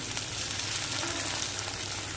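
Tomatoes frying in hot groundnut oil, a dense, continuous bright sizzle that stays steady and fairly close throughout.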